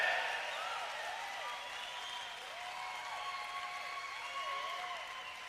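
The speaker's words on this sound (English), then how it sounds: "Can I hear that round of applause?" A conference audience gives a round of applause, steady dense clapping throughout, fairly distant and even, with no talking over it.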